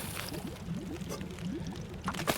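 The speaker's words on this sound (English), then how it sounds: "Let's drink water this time." A character drinks water in the survival video game The Long Dark, a close gulping, pouring liquid sound with a steady rhythm of swallows that lasts throughout.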